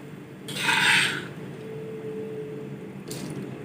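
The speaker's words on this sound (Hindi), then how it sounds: "अब हम चावल डालेंगे।" Rice is tipped into boiling water in a pot for Punjabi jaggery rice, a brief rushing, rasping pour lasting about a second over a low bubbling simmer, followed by a short second rattle.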